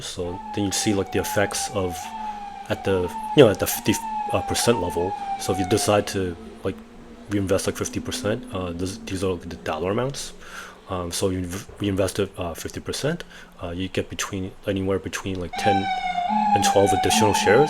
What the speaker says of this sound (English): So sorry about the ambulance noise.